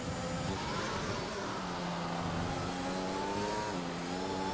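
A Formula 1 race car in the F1 2021 video game, racing at Canada, revs loudly and continuously, its engine pitch climbing and shifting through gears with no talk.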